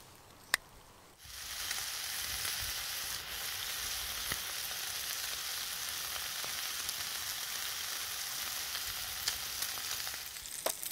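Pancake batter sizzling steadily in a pan on a Trangia mini stove outdoors, a continuous close frying hiss that starts after a brief quiet moment and holds evenly throughout.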